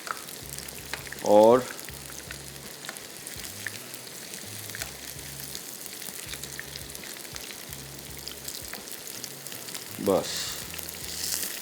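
Prawns, fish and vegetables sizzle steadily in a hot pan, a constant dense crackle like light rain, while someone speaks briefly over it and music plays faintly underneath.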